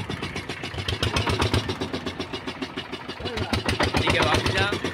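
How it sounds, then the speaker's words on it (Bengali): A motor boat engine chugs in a fast, steady rhythm on a river in the Sundarbans, loud and close, with people talking over it. "আমরা এখন আমাদের নৌকাকে স্টার্ট করে সুন্দরবনের নদীতে বেরিয়ে পড়েছি"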